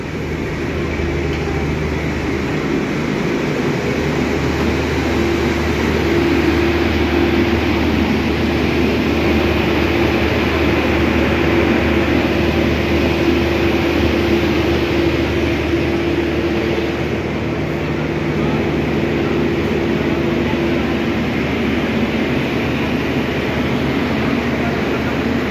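Inside carriage 4 of a Porong to Surabaya commuter train, a constant loud rumble of wheels and motors drones without pause, with a steady tonal whine and occasional muffled voices under the noise.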